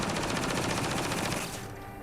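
Rapid automatic weapon fire in the video game Mass Effect: Andromeda: an evenly spaced, fast stream of shots that stays loud and close, then cuts off and trails into quieter game ambience.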